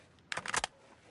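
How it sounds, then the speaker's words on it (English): Quick cluster of mechanical clicks and rattles from a magazine swap during a reload in a first-person shooter, a single short burst lasting about a third of a second against quiet background. "Changing mag."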